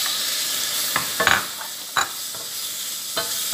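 Shrimp frying in a hot pan for a shrimp and vegetable stir fry, a steady sizzle broken by several sharp scrapes and clacks of stirring, close and fairly loud with no talking.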